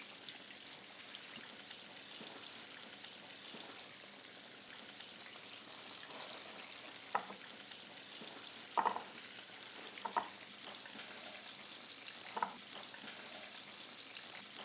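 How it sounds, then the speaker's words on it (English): Steady hiss and crackle of fish frying in hot oil, with occasional louder pops and spits over the continuous sizzle. "While this fish is frying, I'm going to finish dredging up my fish."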